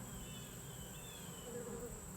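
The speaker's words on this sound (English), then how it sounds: "I don't think it's a wasp. I think it's a fly." A fly buzzes steadily close by at a Layens beehive during an autumn inspection, a continuous insect drone with faint wingbeat tones wavering above it, with no talking.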